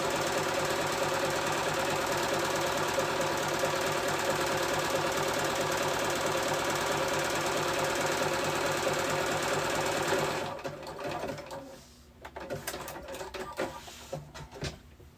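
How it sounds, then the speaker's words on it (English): A sewing machine stitching fabric for a summer muumuu dress, running in a fast steady mechanical whir for about ten seconds before stopping, followed by softer handling noises and clicks. "Make sure you're not sewing over top of your fabric."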